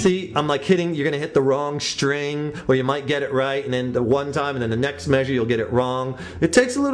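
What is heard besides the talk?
None of the usual background noises is heard.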